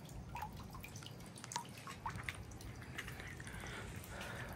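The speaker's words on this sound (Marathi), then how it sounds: "हे कासवाच्या तोंडातून हे पाणी येतं." At Kameido Tenjin Shrine in Tokyo, water pours from a turtle statue's mouth into a stone basin, a continuous gentle trickle dotted with small drips and splashes, with no one talking.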